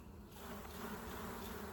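Honeybees swarm around a busy resource hive in a continuous close, dense buzz that swells as the bees are shaken off the frame, with no voices.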